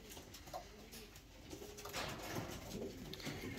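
Racing pigeons coo softly in a loft, their low, rolling calls repeating over a steady, faint background hiss with no voices.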